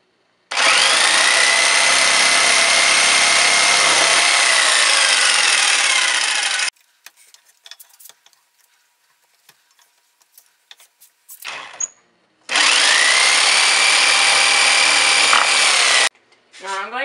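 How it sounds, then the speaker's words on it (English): A jigsaw cuts the ends of a wooden duck call, two long, loud, steady buzzing cuts of about six and four seconds, separated by a quiet stretch with small handling knocks. "Now it's time to cut the ends. We do not have a bandsaw, but it is recommended, so we are going to use a jigsaw."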